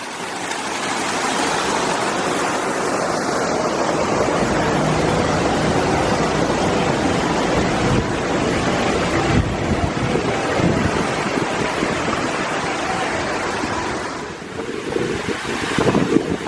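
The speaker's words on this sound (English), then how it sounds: "A beautiful waterfall." A waterfall along the San Antonio Riverwalk on an icy cold day gives off a steady, full rush of splashing water that stays loud and close throughout, with some wind buffeting the microphone.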